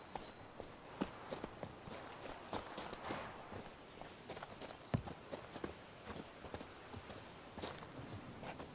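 Roach, Geralt's horse in The Witcher 3: Blood and Wine, gallops with a steady, rapid clip-clop of hooves on the ground, close and continuous over faint game ambience.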